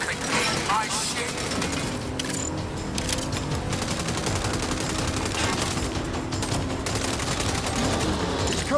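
Dense, continuous gunfire in the Saints Row game during a convoy fight, with rapid automatic bursts and mechanical clatter layered under shouted voices.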